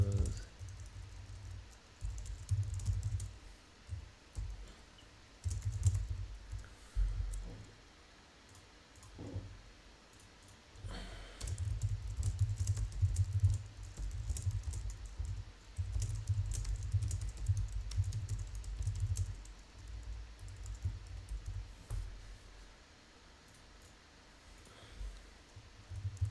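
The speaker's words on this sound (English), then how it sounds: "I'm typing it up." Computer keyboard typing in bursts of rapid clicks over a low background rumble, with several pauses between runs and no talking.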